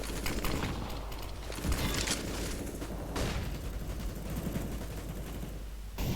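Dense gunfire, including MAG-7 shotgun blasts, fills a competitive shooter video game match, with rapid overlapping shots and mechanical clatter sustained loudly throughout and no clear voices.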